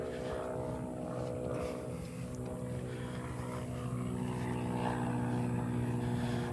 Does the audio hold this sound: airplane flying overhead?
yes